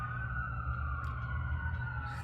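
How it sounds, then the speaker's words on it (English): Emergency vehicle sirens wail faintly from outside, a steady, slowly sliding tone over a low traffic rumble, distant and continuous throughout. "And we've got some sirens."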